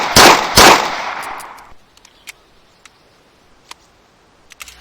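Two loud broadband gunshots from a new weapon in the Arma 3 IFA3WarMod game, fired close together, each trailing into a decaying echo, then a few faint ticks and clicks.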